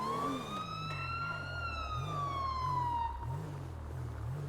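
Loud emergency sirens wailing close by, a rising and falling electronic tone sweeping up and down repeatedly over a low rumbling vehicle engine.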